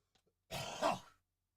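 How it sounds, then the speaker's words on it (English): One short, gruff forced throat-clearing cough bursts out close by in a quiet room, following a couple of faint small sounds. "I had some, we'll call it forced coughing to eject some phlegm-like issues"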